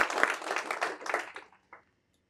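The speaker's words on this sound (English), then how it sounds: "Can we give her a big round of applause?" Audience applause at a keynote address, brisk clapping from a room of listeners that fades out after about a second and a half, followed by a single faint clap.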